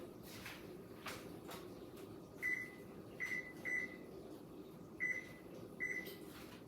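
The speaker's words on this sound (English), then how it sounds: "We're going to preheat our oven to 350 degrees" Oven control panel being set to preheat to 350 degrees, a series of short electronic beeps spaced about a second apart after a few soft knocks, in a quiet kitchen.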